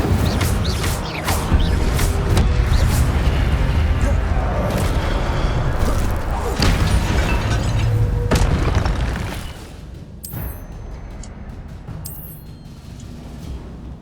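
Casting the Incendio fire spell in Hogwarts Legacy brings loud, booming bursts of fire and impact over a dense game soundscape, followed by quieter effects and two sharp bright flashes near the end.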